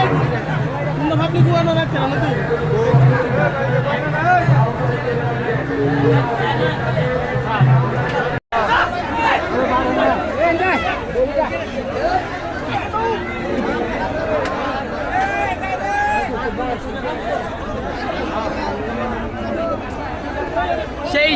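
Dense crowd chatter fills a Qurbani cattle market in Dinajpur: many overlapping voices form a loud, continuous hubbub, with one brief dropout partway through.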